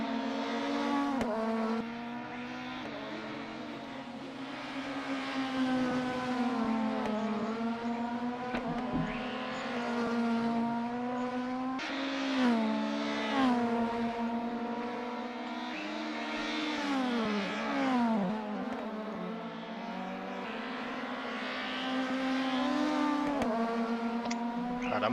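Nissan Primera Cup race cars in a sim race at Mills Metropark, several engines droning and revving together, pitch rising and dropping through gear changes and corners, steady and fairly close with no talk.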